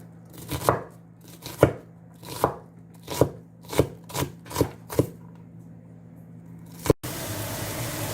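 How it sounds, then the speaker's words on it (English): A knife chops onions on a cutting board in about eight crisp, evenly spaced strokes, each a sharp close tap. Then a steady hiss of what sounds like a spray or sizzle takes over at the end. "Finely chopped onions are really very good."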